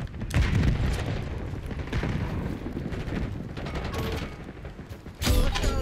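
Rapid gunfire in the video game Call of Duty: Black Ops 6, a steady crackling barrage of shots with booming impacts running throughout, close and fairly loud, with a sharp burst near the end.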